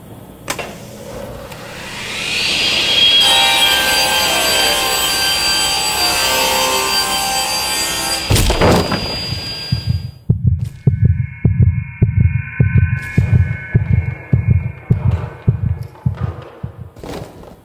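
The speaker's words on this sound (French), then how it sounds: "La pièce à travailler peut se resserrer sur la lame et être rejetée." A table saw rips solid wood and the workpiece kicks back. A loud, sustained cutting whine ends in a sharp crack, followed by a rhythmic thumping as the blade spins on.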